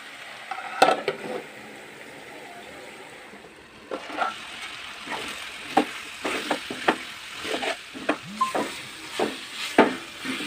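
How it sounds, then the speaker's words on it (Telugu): Ridge gourd pieces stirred in a pan as they cook soft, a spoon scraping and knocking repeatedly against the metal over a steady low sizzle, close and moderately loud, no talking. "మూత పెట్టేసి అలాగే వదిలేయకుండా మధ్య మధ్యలో కలుపుతూ ఉండాలి"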